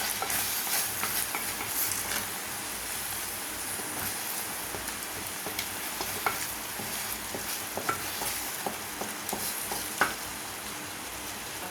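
Spicy egg gravy bubbles and sizzles in a pan while a spoon stirs it, a steady frying hiss with scattered scraping knocks, close and continuous, no speech.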